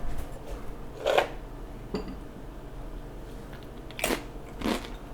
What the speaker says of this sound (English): Oh, I have a cracker.